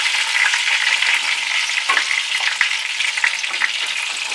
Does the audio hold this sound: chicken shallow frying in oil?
yes